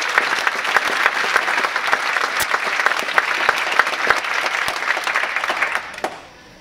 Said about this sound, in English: Let's hear it for Ed Vielmetti